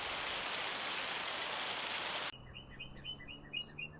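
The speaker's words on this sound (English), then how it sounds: "this was an extremely long hailstorm" A long farm hailstorm pelts down as a dense, loud, continuous clatter for about two seconds, then cuts off abruptly, leaving quiet background with faint bird chirps.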